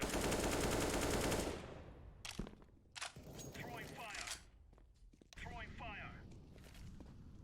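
Bursts of automatic gunfire from Counter-Strike on the Mirage map, starting with one long, loud sustained spray and then shorter choppy volleys, mixed with clattering game effects and faint talk in the background.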